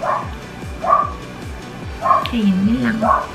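Several dogs bark and yip in short bursts close by, mixing with whimpering, while someone talks over them.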